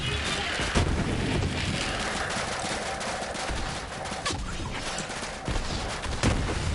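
Heavy, continuous weapon fire in the shooter game Borderlands 3, a dense wall of shots and booming impacts that barely lets up, loud and close, with scattered speech mixed in.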